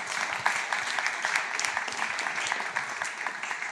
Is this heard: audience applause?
yes